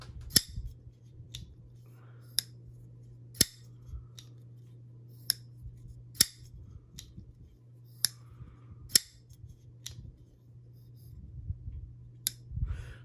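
Curtiss Custom F3 Large folding knife being flicked open and shut, a series of sharp, crisp metallic clicks and snaps spaced irregularly over a steady low hum, close and distinct.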